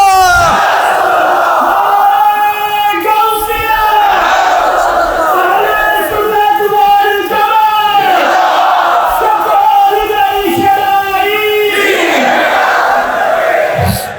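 Massed voices at a Bengali Eid Milad-un-Nabi religious gathering shout the Nara-e-Takbir slogan back in loud, sustained chanting waves, rising and falling in rhythm across a large crowd.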